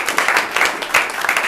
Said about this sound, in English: Let's have a round of applause for Tess